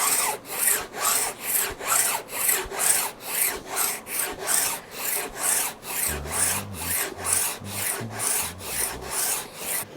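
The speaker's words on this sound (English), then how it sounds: "I want to get the fretboard to 400 with the radius sanding block" Steady back-and-forth sanding of a wooden guitar fretboard with a radius sanding block, about two strokes per second in an even rhythm, close and fairly loud, with no talking.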